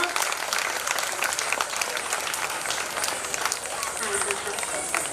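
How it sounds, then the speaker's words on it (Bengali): Sustained applause from a large audience at a dance performance event, dense continuous clapping filling the hall for several seconds, steady and loud with no pauses. "আবারও একবার জোরে হাততালি পুরো সকল টিম মেম্বারদের জন্য।"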